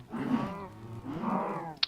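Cows low in the Minecraft video game: two drawn-out moos in a row, fairly close and clear, followed by a short sharp click at the end.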